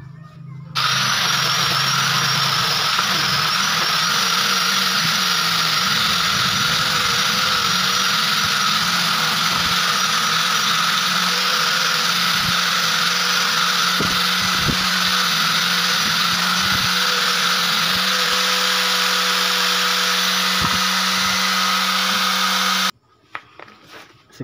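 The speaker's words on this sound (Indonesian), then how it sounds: "Ini selanjutnya kita amplas ini ya." Electric power sander working on small cut pieces of wooden plank for a helmet rack, a steady loud buzzing whine that runs continuously for over twenty seconds with a few brief knocks, then stops abruptly near the end.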